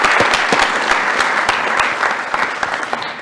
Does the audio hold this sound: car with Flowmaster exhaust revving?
no